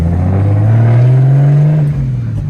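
A single-turbo race car engine revs hard at night in a loud, steady drone that climbs gradually and eases off near the end, heard close up with no talk.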